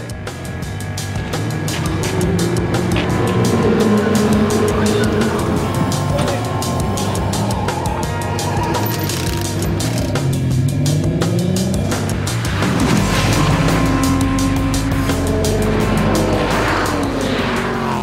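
Race cars roar past at the 2010 Nürburgring 24-hour race, Aston Martins among the field, with loud sustained engine noise, shifting pitch as cars pass, and brief tire squeal, continuous throughout.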